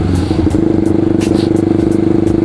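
A motorcycle ridden at a relaxed pace on an overcast day, its engine droning steadily and loudly close to the rider, with a rapid rhythmic pulse and light rattling throughout.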